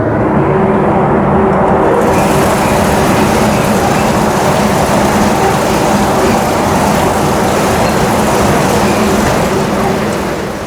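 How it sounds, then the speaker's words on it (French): A 1966 hop-picking harvester runs continuously through a hop field in wet August weather, producing a loud, steady mechanical roar with a rattling, broadband texture and a faint tonal hum, with no talk. "Ça s'appelle une cueilleuse à houblon ou une récolteuse à houblon."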